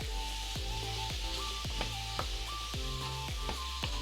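Mixed vegetables for pav bhaji stir-fried in a pan, a steady close sizzle broken by repeated sweeping scrapes and tossing sounds, with no voices.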